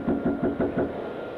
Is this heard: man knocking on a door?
yes